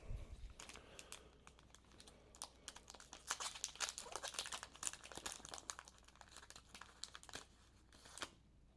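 A trading card pack wrapper from a Currency Series 5 case is crinkled and torn open close up, with dense bursts of crackling and rustling foil that come and go over several seconds, and no one talks.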